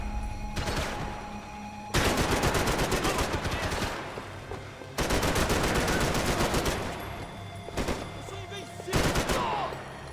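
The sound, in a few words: gunfire in the video game Max Payne 3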